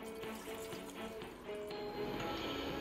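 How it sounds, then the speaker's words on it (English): Rinse water poured off washed millet during Hausa koko preparation in Ghana, a steady close liquid pour with soft splashing and dribbles, no voices. "We are going to pour this water here."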